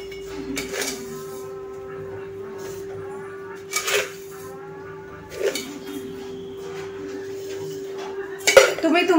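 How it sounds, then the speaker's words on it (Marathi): Sugar is spooned into milk warming in a steel pot for a badam milkshake, with a few sharp metallic clinks and scrapes of a spoon against the pot over a steady low hum. "आता आपण जे दूध तापायला ठेवलंय त्याच्यात आपण साखर ॲड करतो।"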